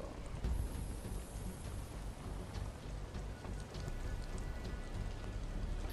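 Steady rain hissing and pattering on surfaces in the video game Watch Dogs, a soft, continuous wash with faint scattered drops and no talk.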